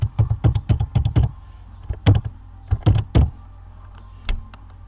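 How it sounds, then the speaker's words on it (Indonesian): Password typed on a computer keyboard during a Windows 7 login: quick bursts of clicking keystrokes in uneven clusters, close and fairly loud, with short pauses between groups and no talking. "kita ketik passwordnya"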